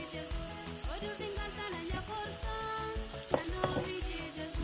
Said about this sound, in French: Pour faire sauter les oignons.